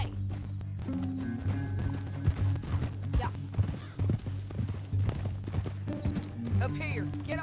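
Horse hooves clip-clop at a gallop in the Red Dead Redemption video game, a steady rhythmic pounding under game music and sound effects, with voices speaking over it.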